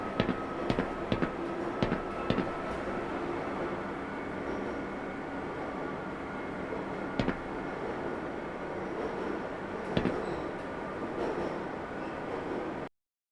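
A train rolls steadily through a facility in the video game Black Mesa, giving a continuous rumbling, clattering ride with occasional sharp knocks and clunks, heard alone at an even loudness throughout.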